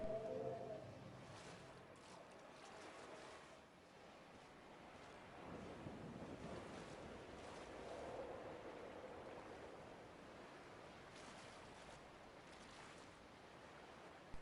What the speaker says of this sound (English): It's the echoes of the waves.